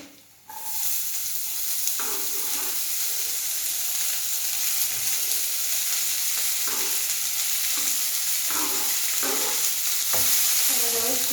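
Finely chopped cabbage drops into a pan of frying urad dal with a sudden loud sizzle that holds as a steady hiss, while a spoon stirs and scrapes in intermittent bursts.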